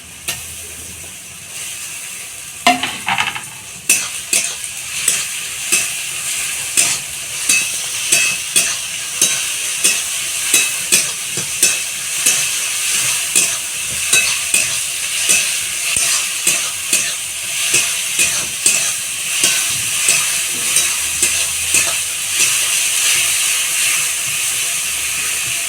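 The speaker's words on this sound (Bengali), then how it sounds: "এবার এটা যতক্ষণ না আদা রসুনের গন্ধটা ছাড়ছে ততক্ষণ আমি এটা ভাজতে থাকবো।" Ginger, garlic and green chilli paste fries with onion and tomato for a rural-style mutton curry, a loud, continuous hissing sizzle with a regular rhythm of spatula strokes scraping the pan, close and without speech.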